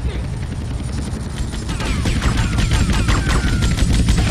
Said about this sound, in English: Where is this attack chopper?